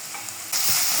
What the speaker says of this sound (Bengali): এরপর দিয়ে দেব টমেটো কষি